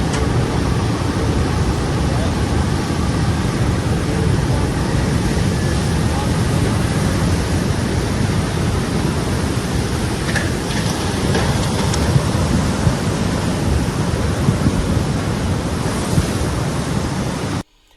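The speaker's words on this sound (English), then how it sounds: "We have one with the wave actually coming in." Tsunami waves from the undersea Hunga volcano eruption rolling ashore, a steady dense roar of surging water with wind buffeting, constant and loud throughout before cutting off abruptly.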